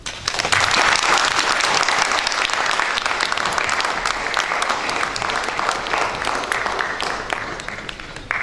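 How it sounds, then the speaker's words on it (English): A lecture audience claps at length, dense steady applause that fills the room at close range and fades slightly toward the end. "Another round of applause for our distinguished chairman"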